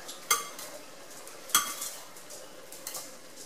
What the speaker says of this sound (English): I'm tossing the onions throughout the vegetable mixture